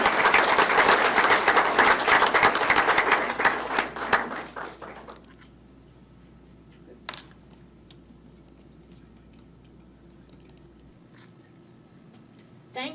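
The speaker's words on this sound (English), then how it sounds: "Another round of applause for their tremendous generosity." An audience at a combined evening meeting breaks into a round of applause, dense clapping for about four seconds that thins out and fades into a quiet room with a few scattered taps.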